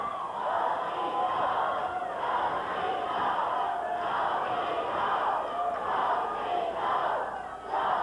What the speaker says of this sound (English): You can hear them chanting, "Go, Steve, go. Go, Steve, go."